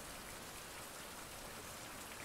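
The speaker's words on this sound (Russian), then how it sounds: "Дождик — это отлично." Steady rain falls in the survival video game Survival Fountain of Youth, a dense, even hiss of drops throughout, fairly quiet, with no voices.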